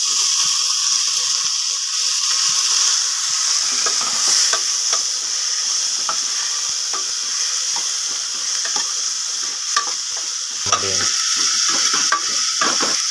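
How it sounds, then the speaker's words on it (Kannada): Tomatoes frying in a hot oil tempering for egg gravy sizzle loudly and continuously, with scraping stirs and small crackles throughout and no talking. "ಈಗ ಟೊಮೊಟೊ ಹಾಕ್ತಾ ಇದ್ದೀನಿ ಒಗ್ಗರಣೆಗೆ"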